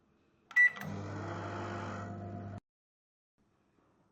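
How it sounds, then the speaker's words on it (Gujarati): A microwave oven heating mango pickle starts with a short beep, then hums steadily for about two seconds before cutting off into near silence, with a faint click at the end. "ડાયરેક્ટ માઇક્રોવેવમાં એક મિનિટ માટે મૂકી દેશું માઇક્રોવેવમાં મૂકી દીધી છે"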